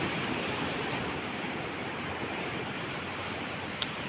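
Sea waves wash in on the shore as a steady, broad roar of surf, loud and continuous without clear breaks between waves.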